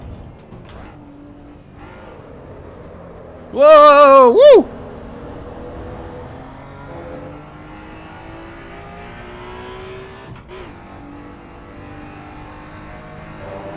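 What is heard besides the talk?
race car engine revving in Assetto Corsa EVO video game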